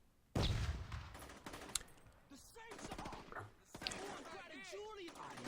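Video game gunfire erupts in a loud sudden burst of rapid shots, followed by scattered crackling fire and game sound effects, with a voice talking over much of it.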